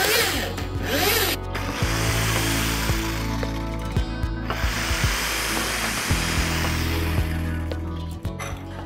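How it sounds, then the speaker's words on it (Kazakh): A power drill bores holes through a wooden board while a snow shovel is being made. The motor whirs loudly and continuously, and the bit gives a ratcheting, grinding chatter as it bites into the wood. "Осы сиверломен төрт жерінен тесіп аламыз да, одан кейін лобзикпен айналдырып дөңгелектеп кесе саламыз."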